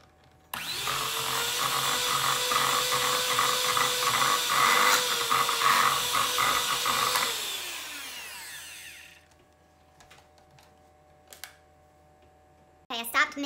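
An electric mixer whirs loudly through chocolate chunk cookie dough for several seconds, then winds down and stops, followed by quieter spoon and bowl clatter.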